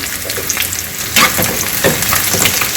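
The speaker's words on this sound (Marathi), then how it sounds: "याच्यामध्ये आता आपण ही लाल मिरची टाकून द्यायची आहे" Red chillies fry with onions in a pan for an idli and dosa chutney, giving a steady, close sizzle with a few scraping stirs and no talking.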